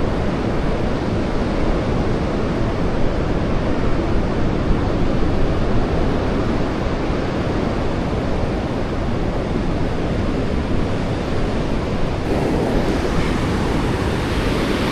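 Waves on a beach under an overcast sky make a steady, dense roar of surf mixed with wind buffeting the microphone. The sound holds throughout with no talking.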